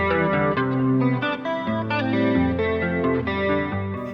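An electric guitar run through chorus and distortion effects plays a fast and continuous flow of picked arpeggio notes, loud and close with no talking.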